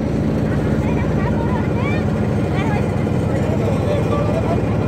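A large passenger trawler boat's engine drones loud and steady with a throbbing low rumble throughout, close by, while people talk over it.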